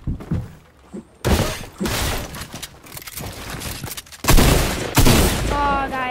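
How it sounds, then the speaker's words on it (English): Rapid bursts of gunfire from a new gun in a video game, loud and dense, with several sustained volleys separated by short gaps and a few heavy impacts mixed in. "my god, this gun shreds."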